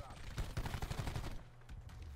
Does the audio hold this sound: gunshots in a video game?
yes